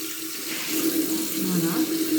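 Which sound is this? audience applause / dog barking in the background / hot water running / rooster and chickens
hot water running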